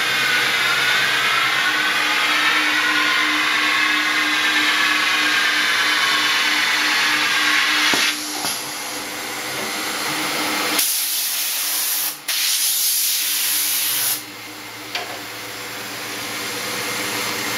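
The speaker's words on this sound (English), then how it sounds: "passing cross-country skis through a stone grinder" A stone grinder in a ski shop works on cross-country skis with a loud, continuous spraying hiss and a whine that shifts and cuts out in stages partway through.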